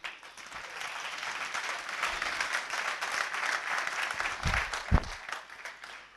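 A church congregation applauds in a steady, dense wash of clapping that holds through the whole stretch, with a couple of louder thumps near the end.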